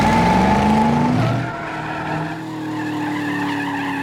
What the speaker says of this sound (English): To put a car into a slide